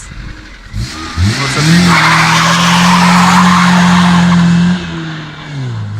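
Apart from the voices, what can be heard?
Lada Priora car launching from a standing start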